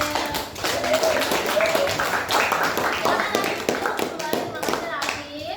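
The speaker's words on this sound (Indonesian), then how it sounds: "tepuk tangan untuk Rafif." A classroom of children claps together in a lively burst of applause, with young voices chattering and calling out over the clapping.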